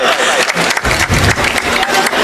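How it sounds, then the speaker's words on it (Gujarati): Crowd at an open-air political rally applauding loudly, a close, dense burst of clapping that swells and stays strong, with a voice over the clapping. "જોરદાર તાળીઓથી પ્રવીણભાઈ ને"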